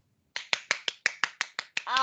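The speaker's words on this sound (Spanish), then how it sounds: "Aplausos" A classroom of students claps together in a steady unison beat, about nine sharp claps at an even pace, ending as a voice starts.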